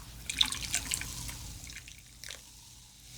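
A splash of Schweppes ginger ale poured into a mixed drink: a short liquid pour with drips and fizzy splashing, fairly quiet and close, no talking.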